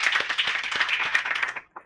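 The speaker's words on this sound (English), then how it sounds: "Can we get a big round of applause for them?" A room of people clapping for the panelists at a young researchers' quantum technologies workshop, a dense burst of hand claps that thins out and stops, ending with one or two stray claps.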